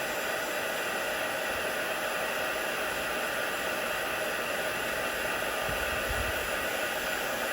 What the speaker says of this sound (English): you must keep the heat gun moving. Don't heat one bit too much because it kind of burns the product